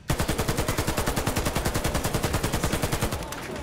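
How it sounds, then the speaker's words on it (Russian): The K-103 rifle in the shooter game Warface fires one long, rapid automatic burst of roughly two dozen evenly spaced, punchy shots, loud and close, ending abruptly. "звук выстрелов для К-103 стали более объемными и"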